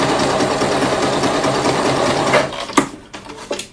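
A sewing machine stitches fabric for hair extensions and a volumizer, a fast, even mechanical whir close to the mic that stops abruptly, followed by a few short clunks.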